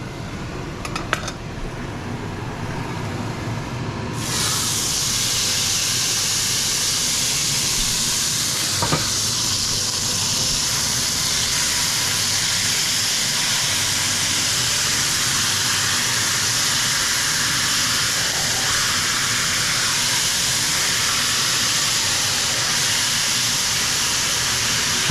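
Ground meat sizzles in a pan for spaghetti sauce, a steady loud frying hiss that starts abruptly and runs on evenly, with no talking.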